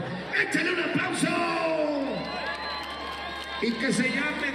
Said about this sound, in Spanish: échale un aplauso